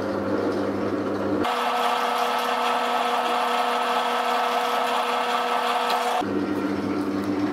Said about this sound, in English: the drill hasn't changed in speed.